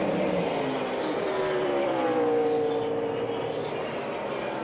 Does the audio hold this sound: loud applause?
no